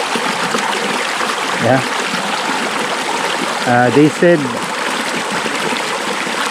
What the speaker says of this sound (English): there is a free flowing water here, as you can see.